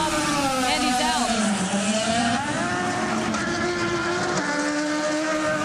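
A 2010 IndyCar race car pulls out of its pit box onto pit lane at Sonoma after a heavy fuel stop, its engine rising in pitch steadily and loud throughout, with a commentator talking over it.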